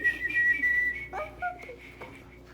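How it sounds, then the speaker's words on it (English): A clear whistled tune with sliding, warbling notes, close and fairly loud, over a faint low background hum. "Can you whistle?"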